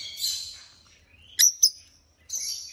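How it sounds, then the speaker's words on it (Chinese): Small birds give thin, high chirps from close by: a soft trailing call, then two sharp separate peeps and a final burst of chirping, each coming alone over quiet background. "出来两只小鸟"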